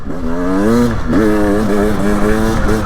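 A 2024 Beta 300 Race Edition dirt bike with a dual-plug engine revs hard and close up. Its loud, buzzy tone rises and falls through several throttle blips, with no voices.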